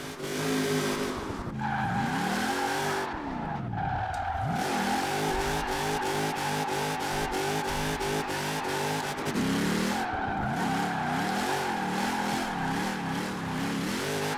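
Chris Forsberg's FD drift car in Forza Horizon 4 slides through corners. Its engine revs hard and wavers while its tires squeal in long, loud stretches, with a brief lull partway through and no talk.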